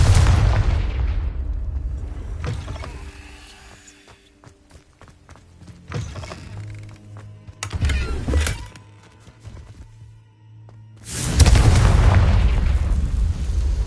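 A Confringo blasting curse from the game Hogwarts Legacy, bursting in several loud, booming blasts with rumbling tails, separated by quieter gaps with faint footsteps.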